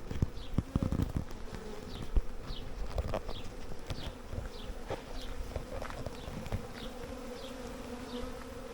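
A honey bee swarm buzzes continuously at a swarm site, a dense steady drone with individual bees whizzing past the microphone every second or so, close and moderately loud, with occasional rustles.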